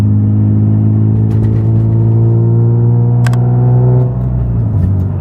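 A Nissan 350Z cruises on a nighttime test drive, its engine giving a steady, loud low drone. The pitch holds even, then eases slightly toward the end as the car slows or shifts.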